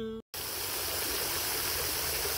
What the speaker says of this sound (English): I'm filling up her water that she keeps knocking over